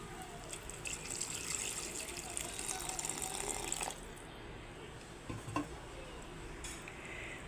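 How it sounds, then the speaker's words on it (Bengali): Water pours with a steady splashing rush into a cooking pot holding chopped tomato, then stops, followed by a few soft clinks of a utensil against the pot, fairly quiet with no speech. "দেখবেন এখন কেটে রাখা টমেটোটা দিয়ে দিচ্ছি আর তার সঙ্গে জলও দিয়ে দিচ্ছি"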